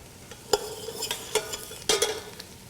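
Carrots tumbling into onions sautéing in a pot, a few sharp clatters and stirring scrapes over a soft steady sizzle.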